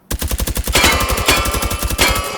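Rapid automatic fire from an MP5 submachine gun in the shooting game Hot Dogs, Horseshoes and Hand Grenades, a loud close burst of about a dozen shots with no pauses.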